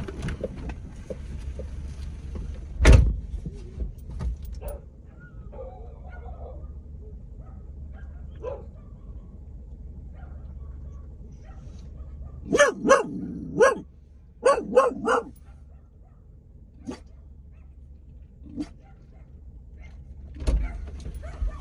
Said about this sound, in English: there's like 2-3 other dogs that's over here, like little tiny dogs that's barking and making a whole bunch of noise